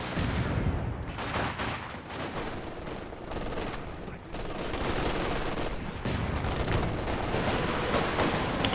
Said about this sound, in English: Here we go, another Katusha barrage coming in.